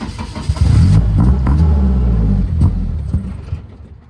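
A van engine struggles and surges as the throttle is worked, as if the fuel pump is not supplying enough fuel. The loud, close, uneven revving rises and sags without talk.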